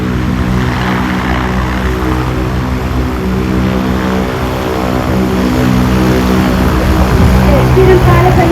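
A Bushcat light aircraft taxis at an airshow, its propeller engine droning loud and steady close by with a strong harmonic hum, while a voice talks over it.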